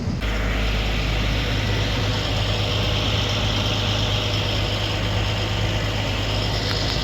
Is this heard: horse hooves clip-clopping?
no